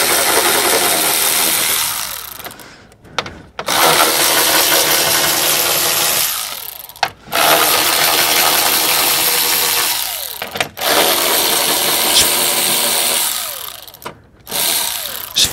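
Power tool loosening 10 mm bumper guide fasteners on a Chevrolet Sonic, sustained loud whirring bursts of several seconds each, separated by short pauses, close up.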